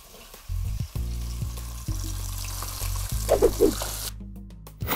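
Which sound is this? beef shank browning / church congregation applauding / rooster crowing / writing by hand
beef shank browning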